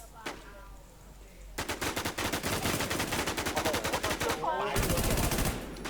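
Rapid automatic gunfire from a shooting video game rattles in long, loud bursts close up, with a brief pause between volleys and a faint voice underneath.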